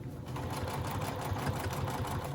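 A sewing machine runs steadily and close, back stitching the seam of a fabric pouch with a fast, even mechanical whir and rapid needle ticking, and no voices.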